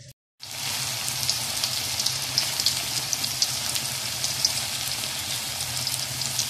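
Potato balls fry in hot oil over a low flame, making a dense, even crackling sizzle heard up close; it runs steadily after a moment of silence at the start.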